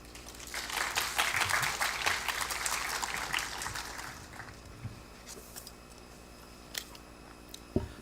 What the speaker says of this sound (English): let's give another round of applause to 5 presenters